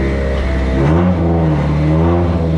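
A Nissan S15 with a newly fitted gearbox revs loud and close, its engine note climbing, dipping at a shift, then rising again through the gears.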